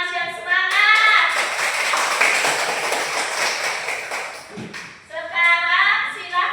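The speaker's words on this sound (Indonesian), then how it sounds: "Silakan kasih tepuk tangan yang semangat." Students in a teacher-training classroom clap together for a group that has just answered, a dense burst of hand claps lasting several seconds between stretches of talk.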